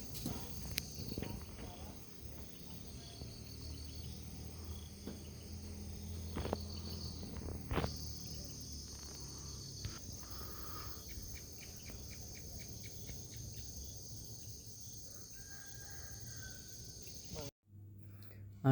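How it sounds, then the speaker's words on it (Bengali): Dawn in hilly countryside near Sajek brings a steady chorus of crickets trilling throughout, with occasional faint bird calls and sporadic clicks and knocks nearby, before an abrupt cut near the end. "এই ভোরবেলার পাখির কিচিরমিচির শব্দ, ঝিঝি পোকার শব্দ"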